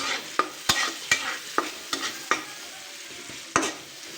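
Two dried red chilies tempering in hot oil, a steady sizzle broken by sharp clicks of a utensil stirring in the pan, close and moderately quiet.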